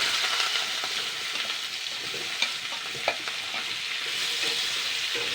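Green tomatoes seasoned with salt, chili powder and turmeric are stirred in a hot pan, giving a steady sizzle with a couple of sharp spatula scrapes against the metal, close and alone.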